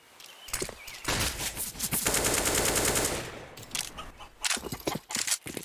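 Gunfire in Counter-Strike: Global Offensive, with sharp single shots giving way to a sustained automatic burst, then scattered shots and clatter as it tails off.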